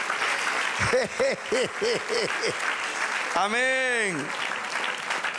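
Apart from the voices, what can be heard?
congregation applauding in church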